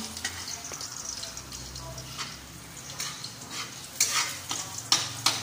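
Garlic frying in a pan gives a soft steady sizzle, with stirring scrapes and a few sharper utensil clicks growing louder toward the end.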